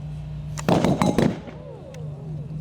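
Pyrotechnic special-effects charges of the kind set in undergrowth for stunt scenes go off in a quick cluster of loud cracks and bangs over a steady low hum, then fade into a ringing tail.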